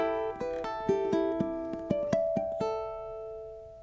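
Fingerpicked ukulele plays a short passage in 3/4 mixing plucked notes and bell-like harmonics, a steady series of clear attacks ringing out and then sustaining to a fade, with no voices.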